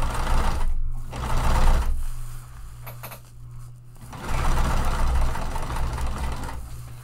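A sewing machine stitches the bottom seam of a fabric tote bag at regular stitch length, whirring steadily in two long runs with a short pause between, close and alone.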